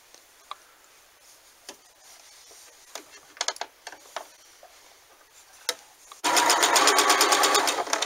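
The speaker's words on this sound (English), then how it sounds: "So then we're going to do another line of stitching here." A sewing machine stitches a line along fabric in a loud, steady, rapid burst in the final two seconds, after scattered quiet clicks and handling noises.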